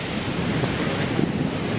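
A continuous roar of surf with wind buffeting the microphone, steady and close, no voices.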